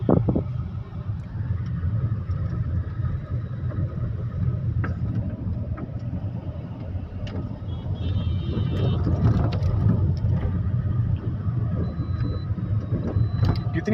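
Steady car engine hum and road rumble inside a moving taxi in Kuwait, a continuous low drone with wind noise throughout and faint occasional clicks, no talk.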